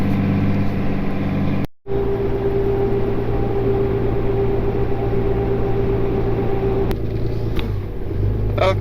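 A vehicle engine hums loudly and steadily, rising in pitch as it accelerates, then drops off sharply for a moment during a gear change before pulling on again.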